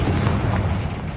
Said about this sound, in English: Now for the rest of you. Confringo!